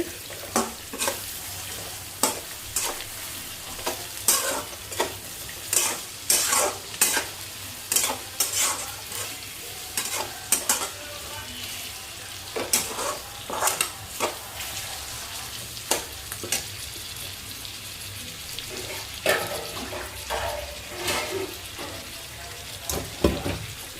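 Onions fry in a pan for Andhra-style upma while a spoon stirs them at intervals, with sizzling running throughout and many sharp, close scrapes and knocks coming in uneven bursts.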